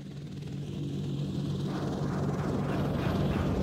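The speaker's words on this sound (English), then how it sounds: "the helicopter is moaning like it's killing me" A helicopter engine in the video game Raid On Coasts drones steadily and close, a low throbbing hum that holds and swells slightly louder toward the end, with no talking over it.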